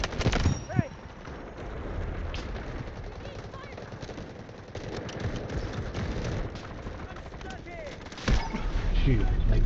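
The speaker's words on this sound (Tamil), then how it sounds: "ஸ்னைப்பர் வச்சு அடிக்கிறான்." Sniper rifle gunfire in the Delta Force video game on the Trench Lines map: sharp, loud shots cut through dense, continuous battle noise, with rattling fire and rumbling blasts filling the whole stretch.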